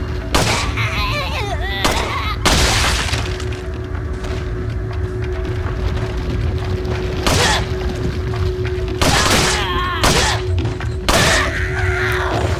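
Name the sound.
handgun shots in Resident Evil 4 video game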